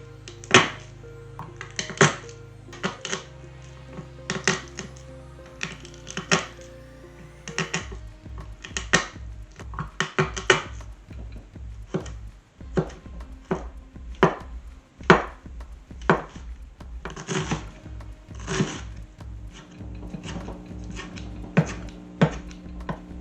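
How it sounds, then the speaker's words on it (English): Mushrooms, onions, garlic and parsley being chopped with a knife on a cutting board, a close series of sharp rhythmic knocks in quick bursts, some fast runs and some slower single strokes, with no one talking. "I'm going to chop up some mushrooms, onions, garlic, and parsley."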